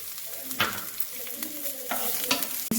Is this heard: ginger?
yes